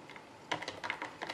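Short bursts of keystrokes on a computer keyboard, a quick cluster of clicks typed close by and fairly quiet, with no talking over them.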